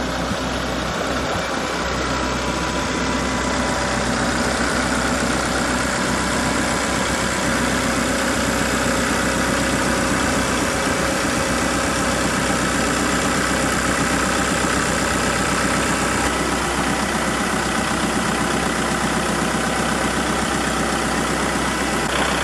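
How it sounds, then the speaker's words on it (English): A John Deere tractor with an MX5400 loader idles nearby in a steady, continuous low rumble with a constant drone throughout and no talk. "here he comes with the tractor"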